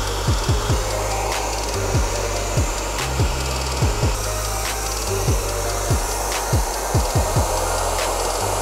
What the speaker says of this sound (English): I'll gently place the curls in the diffuser and place it against her scalp